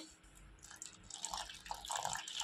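Water poured into a flour mixture for dough, splashing and trickling in short bursts, growing gradually louder, with faint dripping sounds and no talking.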